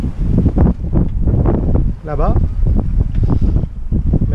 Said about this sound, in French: Et il y a encore du vent